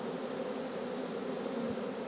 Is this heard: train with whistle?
no